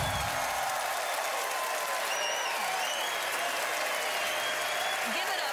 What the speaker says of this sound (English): Give it up for the magic of Alyx Hilshey